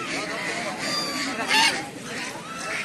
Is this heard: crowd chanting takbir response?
no